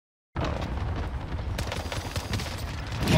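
Rapid gunfire in Call of Duty Warzone (Cold War), a burst of fast repeated shots with booming impacts, loud and close, starting abruptly after a brief silence.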